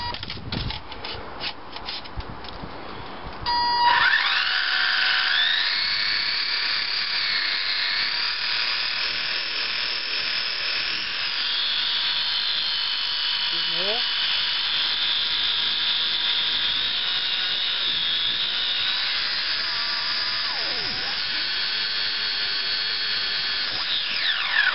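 An HPI 20 turn electric motor with a 22 turn pinion in an RC car whines up to full power and holds a high, steady electric scream for about twenty seconds, with a brief dip in pitch midway.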